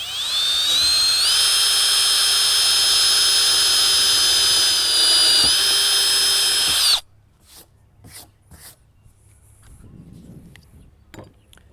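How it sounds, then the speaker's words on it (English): A power drill bores a hole into the flat side of a plastic rain barrel, a loud steady high whine for about seven seconds that stops abruptly, followed by quiet clicks and handling noises. "You want to make sure you drill your hole on a flush side."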